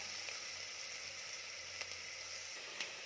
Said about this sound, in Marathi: कांदा आपल्याला परतून घ्यायचा आहे